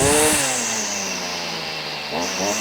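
A petrol strimmer engine with a freshly tuned carburetor screams at high revs, drops to a steady idle-like drone, then surges again as the throttle is squeezed, loud and close.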